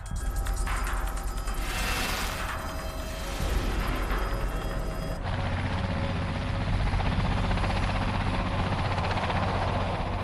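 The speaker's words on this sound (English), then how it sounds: "I saw a helicopter hovering over the GE property. I could tell that it was the police helicopter." A police helicopter hovers over an industrial property, its rotor and engine roar loud and steady throughout with a heavy, continuous thrum and no voices.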